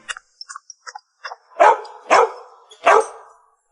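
A man, a military division commander in an animated period drama, crouches on the floor and imitates a barking dog: a few soft yips followed by three loud, drawn-out barks, alone.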